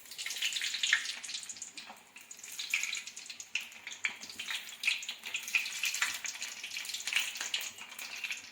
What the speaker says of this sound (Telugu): కోవా మీడియం ఫ్లేమ్లో పెట్టి వేయించుకోవాలి.